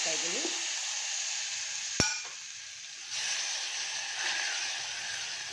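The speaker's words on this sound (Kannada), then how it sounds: "ಇದೆಲ್ಲ ಸ್ವಲ್ಪ ಚಟಪಟ ಅಂತ ಸಿಡಿಲಿ" Spices splutter in hot oil for tempering: a steady hiss with a brief sharp clink partway through; a close, continuous sizzle with light crackling throughout.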